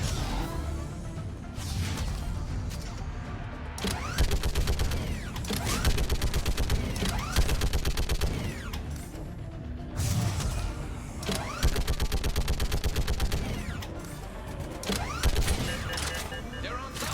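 Rapid turret gunfire in the video game Mass Effect 3, long sustained bursts of dense mechanical firing that stop and restart in several waves, with loud rattling and whooshing throughout and a voice speaking over it.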